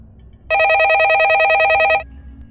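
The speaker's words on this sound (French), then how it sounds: "Le téléphone fixe sonne," A landline telephone rings with one loud, rapidly warbling electronic trill lasting about a second and a half, close and clear over a faint room hum, with no talking.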